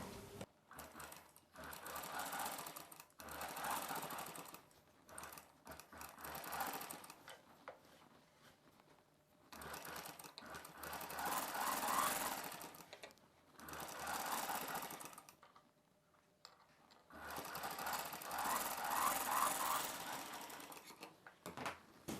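A sewing machine stitches the lining around the neckline of a boat neck dress in close, fast bursts of stitching separated by brief pauses.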